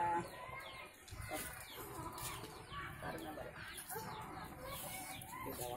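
A chicken clucks in short bursts outdoors, faint and scattered among ambient noise, while a child and an adult talk nearby.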